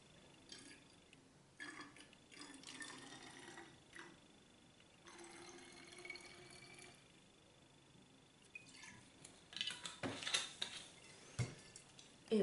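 Eau de vie poured into a small bottle while mixing homemade hand gel: a faint, quiet trickle and a few drips, with brief louder splashes near the end and no talking.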